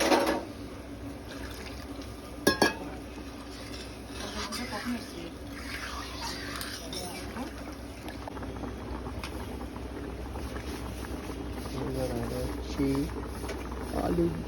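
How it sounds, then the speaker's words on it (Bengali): Potato curry simmers in a pot at a steady bubbling boil, a constant wet churning with a couple of sharp clinks early on and no speech. "আলুর ঝোল এখন হচ্ছে ফুটতে ফুটতে"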